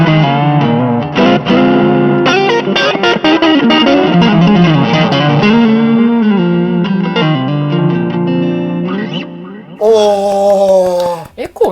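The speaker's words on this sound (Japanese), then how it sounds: "エコーの音いいっすね、ほんとね" Distorted electric guitar lead played through a long echo setting on a Zoom multi-stomp effects pedal alongside a tube-screamer-style overdrive, fast notes trailing into repeating echoes, loud and close, with a short pause before a final bright burst.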